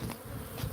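Bees buzz steadily under a house soffit, a close, continuous insect drone with slight swells, with no talk.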